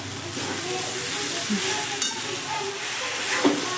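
Mustard, sesame and garlic paste sizzles in hot oil with broccoli stalks, a steady close hiss of frying with occasional stirring scrapes, no talk.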